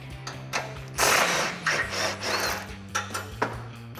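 A hand ratchet turning an 18mm socket on an extension works loose a bolt on a 2016-2018 Silverado 1500 front bumper, giving a run of close, quick clicking bursts with brief pauses between strokes.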